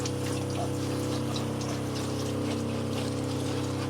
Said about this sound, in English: just give them a little rinse off.